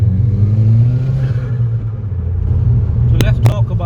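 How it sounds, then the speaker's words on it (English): A remapped VW Golf MK5 GTI, tuned to 270 bhp with a changed exhaust and induction kit, rumbles loudly and steadily up close, with a brief sharper burst near the end. "Exhaust notes have changed, and also the induction kit."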